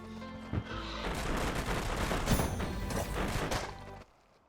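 Dense, continuous volleys of gunfire from upgraded defences and slowing bullets in the tower-defense game Defender Bros, loud and rapid with crashing impacts throughout, cutting off abruptly near the end.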